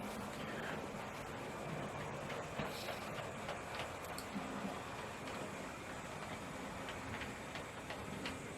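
A Hornby model shunting locomotive runs steadily along its track, giving a continuous close mechanical rumble and whir with faint rhythmic clicks, no voices over it.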